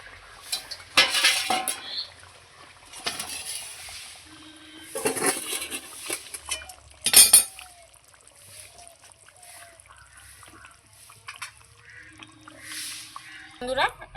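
Spoon and metal pan clatter close by as Bengali-style pabda fish curry is scraped and served from the pan onto a plate, with intermittent scraping bursts and a person talking in between.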